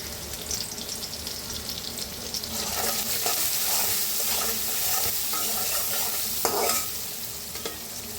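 Onion, green chillies, turmeric and salt frying in a pan, a continuous sizzle that grows louder partway through, with a spoon stirring and a sharp scrape near the end.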